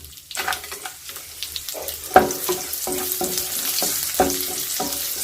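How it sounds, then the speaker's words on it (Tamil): Cashews and raisins fry in ghee in a kadai, a close, continuous sizzle broken by sharp clinks and scrapes of stirring against the pan. "பாருங்கள், முந்திரி ஃப்ரை ஆகிட்டுருக்கு"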